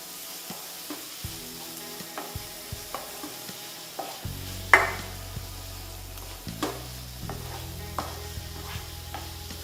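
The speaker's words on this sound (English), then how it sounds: "I'll let this saute nice and easy." Tomatoes sautéing in a pan for Bengali doi maach, a steady low sizzle broken by a louder hiss as they go in, with sharp spoon scrapes and taps against the pan at intervals and no talking.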